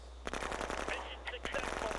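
Rapid bursts of gunfire from attacking units in the strategy game Shadow Empire, crackling volleys in quick succession with a voice faintly underneath.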